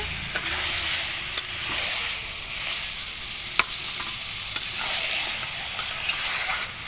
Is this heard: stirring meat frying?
yes